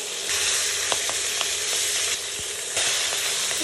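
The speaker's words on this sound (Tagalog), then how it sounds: "magluluto nga ako ng pritong bangus" Milkfish (bangus) frying in a pan, a steady broadband sizzle with occasional small pops and crackles, close and continuous with no talking.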